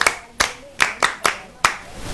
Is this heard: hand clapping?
yes